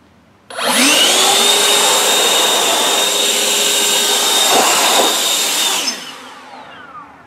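AiDot Enhulk 930 cordless leaf blower switched to turbo mode, a loud steady high-pitched fan roar that starts abruptly, holds for about five seconds and then spins down, heard alone with no talk.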